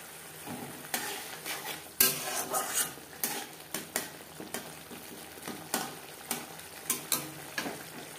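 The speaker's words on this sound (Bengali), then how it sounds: "মশলা কষিয়ে নেওয়ার পর দিয়ে দিলাম সজনে ডাঁটা।" Ground spices being fried and stirred in a pan for a Bengali drumstick curry, with a steady low sizzle broken by repeated scraping and stirring clatters from a spoon, fairly close and moderately loud, no voices.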